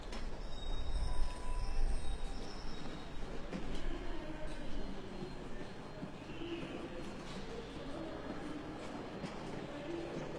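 Train at Reading railway station, a steady low rumble of rolling stock with faint squeals and station ambience throughout, fairly distant and continuous with no clear voices.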